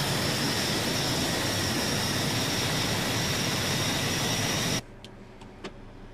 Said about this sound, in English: All 4 engines are running.